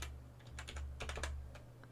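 Quiet clicks of typing on a computer keyboard come in short irregular bursts close by, over a low electrical hum.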